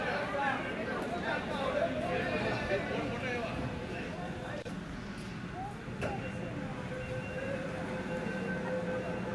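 A crowded Howrah underground metro platform as a train stands nearby: steady rumble and rail noise blend with dense crowd chatter, plus a few sharp clanks and hisses, loud and continuous.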